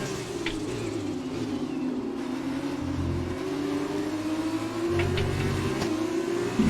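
An F2 race car engine in a racing game at Bahrain holds a steady, close, high whine whose pitch slowly climbs as the car accelerates down a straight, with brief clicks and shifts.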